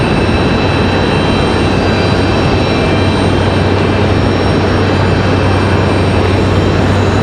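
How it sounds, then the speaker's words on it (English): A JetBlue airliner in company livery pushes back at Raleigh-Durham airport, its engines and ground equipment making a loud, steady broadband roar with a constant low hum, unbroken throughout and with no voices. "This one pushing back in the beautiful actual JetBlue livery."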